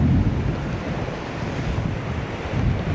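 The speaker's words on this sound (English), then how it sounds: "Here one can start feeling the power of the wind and the storm." Storm wind buffets the microphone while rough waves surge against the coast at Marsaskala, Malta, a continuous loud roar of gusts and surf with no talk.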